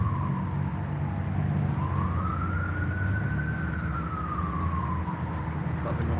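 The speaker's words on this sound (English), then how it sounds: "And I still hear the siren" An emergency vehicle siren wails in the distance, rising and falling slowly over a steady low traffic rumble.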